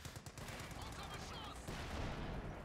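Gunfire from the strategy video game Company of Heroes 2, a dense, continuous rattle of shots and bursts under the game's battle din, while a commentator talks over it.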